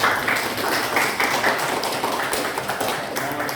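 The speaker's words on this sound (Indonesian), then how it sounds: "Mari kita berikan tepuk tangan dari Gubernur." Classroom applause, a dense patter of many hands clapping together at close range, steady and even throughout with no voices over it.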